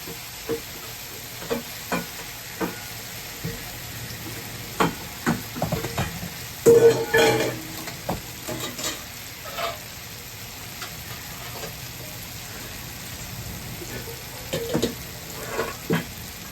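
Tomato chutney sizzles in oil in a pan while being stirred, with a quiet continuous fry punctuated by repeated spoon scrapes and knocks, some clusters louder near the middle and end.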